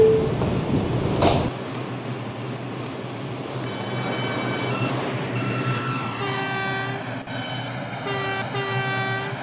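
MTA R142 subway train on the C line via the Concourse: a loud rumble cuts off, leaving a steady motor hum, then the repeating two-tone door chime sounds clearly as the doors close.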